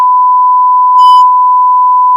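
A steady, loud censor bleep tone runs unbroken for about two seconds over a comedy podcast, covering a spoken word, with a slight swell partway through and no other sound.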